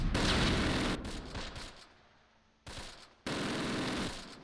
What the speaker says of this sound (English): Ooh, mortars are falling on us.